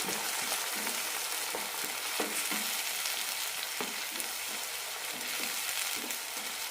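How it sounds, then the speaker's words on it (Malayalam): Ground tomato paste sizzles and spatters in hot oil in a pan, a dense continuous frying hiss punctuated by frequent soft stirring scrapes, close and steady, with no talking. "ഇനി ഇതിലേക്ക് തക്കാളി അരച്ചതിടാം വഴറ്റാം"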